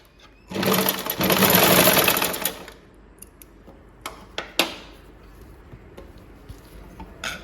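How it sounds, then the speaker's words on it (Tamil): A domestic sewing machine stitches in a loud, steady burst for about two seconds after its tension disc has been tightened, then falls to quieter clicks and taps of handling. "டைட் பண்ணிவிட்டு நம்ம ஸ்டிச் பண்ணி பார்க்கலாம் இப்போ கரெக்டாக வருதுன்னு"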